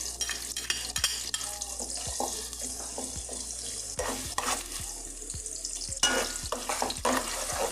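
Garlic hits hot oil in a pan for Filipino bitter gourd with shrimp, stirred with repeated sharp utensil clacks against the pan over a steady sizzle, with running tap water in the background.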